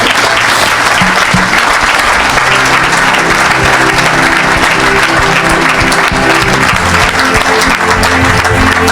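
A congregation at an evangelistic church service applauds and cheers for Jesus, a loud, dense, unbroken wash of clapping with faint musical tones sustained underneath.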